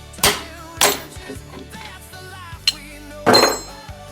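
Several sharp metallic strikes ring out at uneven intervals as a hand tool is used as a hammer while removing a car's oxygen sensor, with a brief ringing tone after each hit.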